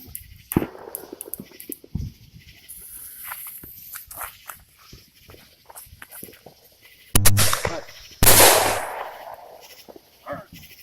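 Fourth of July fireworks bursting outdoors at night, with two sharp loud blasts near the end and scattered softer pops and crackles earlier, some distant, amid quiet background.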